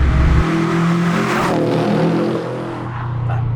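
Subaru Impreza WRX Bugeye engine while driving, a loud steady drone that holds its pitch through the clip, close and continuous with road noise and no voices.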